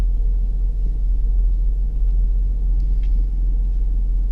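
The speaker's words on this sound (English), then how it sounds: "Pull inside the garage." A Jeep WK's engine rumbles low and steady as the SUV creeps slowly into a garage, a continuous close idle with no talk.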